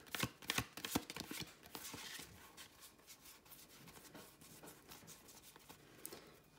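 Tarot cards handled while someone searches through the deck for one card: quiet, close rustling with soft flicks and slides, busiest at the start and then settling into lighter shuffling.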